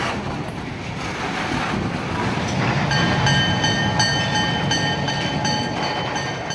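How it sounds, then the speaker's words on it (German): A long CN freight train rolls through a Vancouver container rail yard, a steady rumble with high metallic wheel squeal ringing over it, moderately loud and constant. "In Vancouver haben die kilometerlangen Güterzüge ihr Ziel erreicht."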